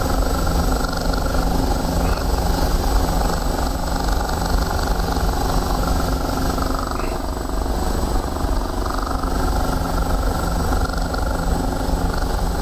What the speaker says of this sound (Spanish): No, es mi helicóptero, mi helicóptero está dañado.